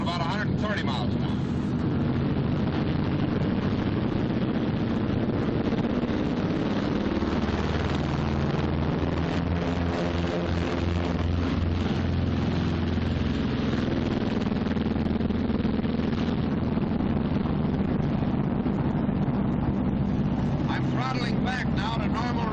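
Loud, steady roar of a 1944 B-26 bomber's engines at takeoff power, filling the whole stretch with sustained propeller drone and rising mechanical rumble, with a voice talking over it.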